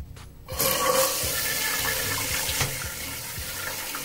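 Water rushes from a Siamp Verso 350 wall-hung toilet cistern as it flushes and then refills, a loud steady gush starting after a brief quiet moment and continuing close by without any talk.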